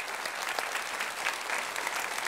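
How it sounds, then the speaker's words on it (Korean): Applause from a church congregation at a Friday worship service, a dense, steady wash of many hands clapping at moderate volume throughout. "방송에 수고하신 분들 박수로 우리 감사합시다"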